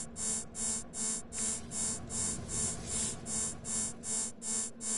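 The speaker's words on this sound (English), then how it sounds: "it has a real alarm sound to it" A repeating electronic alarm tone from the game No Man's Sky pulses in steady, evenly spaced beeps, about two per second, clear and alone.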